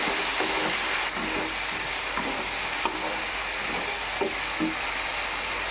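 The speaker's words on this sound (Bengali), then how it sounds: "হলুদ গুঁড়ো একটু ভালো করে নেড়ে চেড়ে নিতে হবে" Turmeric powder is stirred into potatoes and kulekhara greens frying in a pan, a steady close sizzle with soft repeated scraping strokes throughout and no talking.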